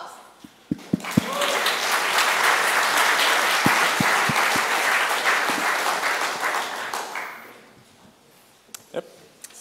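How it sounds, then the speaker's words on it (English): An audience applauding a speaker at the start of a technical talk, a few scattered claps swelling into sustained warm applause for several seconds, then fading to isolated claps. "And warm applause."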